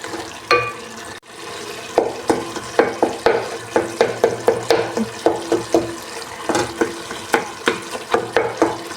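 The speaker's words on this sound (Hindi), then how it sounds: "पानी ड्राई हो जाए और पालक को अच्छी तरह फ्राई करनी है।" Spinach frying in a pan over high heat, with a soft steady sizzle beneath repeated close, sharp scrapes and taps of a spoon stirring in a regular rhythm.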